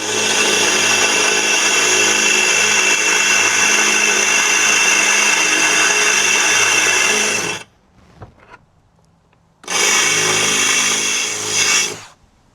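A power drill with a dull bit grinds against metal while trying to cure a squeak, a loud, steady whining roar for about seven seconds, a brief pause with faint clanks, then another burst of roughly two seconds.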